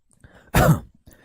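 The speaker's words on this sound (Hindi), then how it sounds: "खांसी आ रहा है" A single short, sharp cough bursts out, close and fairly loud, with faint breathing before and after.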